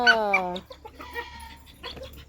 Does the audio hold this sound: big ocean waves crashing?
no